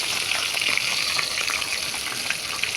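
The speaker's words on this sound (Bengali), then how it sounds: "তেলটা গরম করে আগে মাছগুলো ভেজে নিচ্ছি" Fish fries in very hot oil, a dense, steady sizzle and spatter that stays loud and continuous throughout with no voices.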